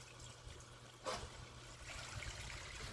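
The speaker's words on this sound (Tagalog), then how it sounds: "Nakaka-relax pakinggan yung tubig guys." Running water from a tap streams steadily over pork spareribs being rinsed before cooking adobo, a faint, even trickle that continues alone without any talking.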